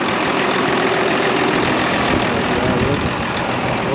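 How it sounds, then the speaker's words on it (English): An International Harvester 1456 tractor, a forgotten barn-find gold demo model, idles in a loud, steady, even drone with a low hum running underneath and no pauses or changes in pace. "It is sitting here idling, sounding pretty healthy."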